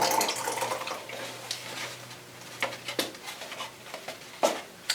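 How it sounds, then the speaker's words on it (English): Borax solution and glue solution poured together into one container, a soft liquid trickle and splash with a few sharp drips and patters near the end, fairly quiet and close. "we're going to mix them into our one container. So we're just going to pour them together."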